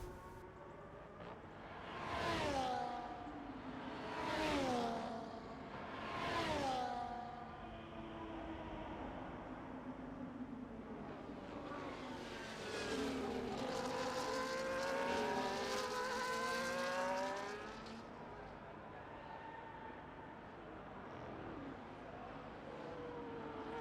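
Ferrari race cars in a racing video game at a Mexico circuit: faint engine notes sweep past in three quick rising-falling passes, then a longer, thicker engine roar swells and fades, over a low steady background.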